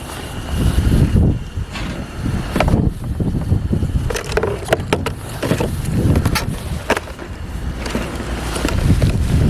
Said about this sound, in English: It is a little bit breezy now, and I am having a hard time keeping this thing going.